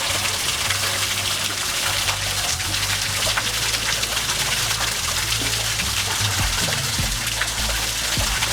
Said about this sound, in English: Another waterfall right here.